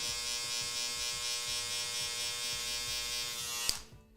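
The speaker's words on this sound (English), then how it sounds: "But I just blend it into my clipper close." Electric hair clippers blending a low taper fade, a steady close buzzing hum that runs nearly unbroken, ending with a brief click as they switch off.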